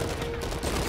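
Rapid gunfire in the video game Uncharted 4, a loud dense burst of shots filling the whole short moment.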